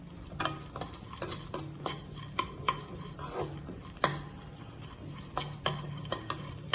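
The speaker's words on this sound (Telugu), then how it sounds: "ఇవి కొంచెం ఫ్రై చేసుకోవాలండి." Roasted gram being stirred and dry-fried in a pan, with a steady run of light scraping and clinking strokes against the metal at an irregular rhythm, close and fairly quiet, with no talking.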